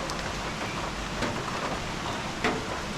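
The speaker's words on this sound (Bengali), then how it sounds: "বৃষ্টি হচ্ছে" Rain falls steadily outside a tea house in Sreemangal, a soft even wash of drops with no other sound on top.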